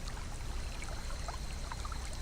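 A small creek's water streams and trickles steadily as ambient game background in a Higurashi When They Cry visual novel scene, a soft continuous wash without voices.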